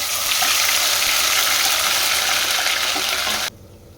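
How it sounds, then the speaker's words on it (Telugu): Onion paste frying in oil in a pan while making a Telangana-style fish curry, giving a loud, steady broadband sizzle that runs unbroken for several seconds and then cuts off abruptly near the end. "ఆనియన్ పేస్ట్ని ఆయిల్లో కొద్దిగా ఫ్రై చేసుకోవాలి"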